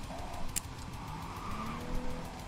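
A car driving in the video game Cyberpunk 2077, a steady engine rumble with faint tire noise rising and falling, with one brief sharp click near the start.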